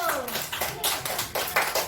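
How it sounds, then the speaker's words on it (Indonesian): Children clap their hands in a classroom, a scattered burst of close claps with uneven rhythm, mixed with some chatter in the room. "tepuk tangan buat Gil."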